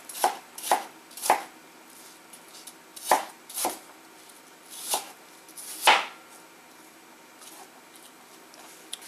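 Crisp knife chops land on a cutting board while food is cut for Moroccan chicken wings, in an uneven run of close, sharp strikes spaced about half a second to a second apart.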